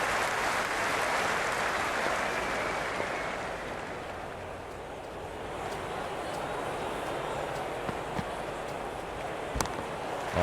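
Crowd at a T20 World Cup cricket match between India and Pakistan in the Cricket 26 video game, a steady broad roar of cheering from a large stadium crowd that holds throughout and dips slightly midway.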